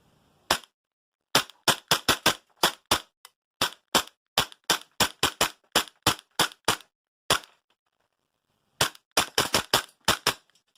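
Tokyo Marui FNX-45 gas blowback airsoft pistol fired through a full magazine, sharp snappy cracks in quick clusters and single shots with short pauses, close and loud with no talk.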